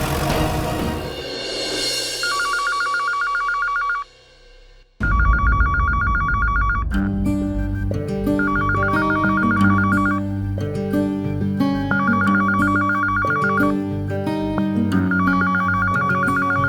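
A telephone rings in a Hindi TV drama household, a repeating electronic ring in bursts that pauses briefly after about four seconds and then resumes over background music, loud and near, with no talk.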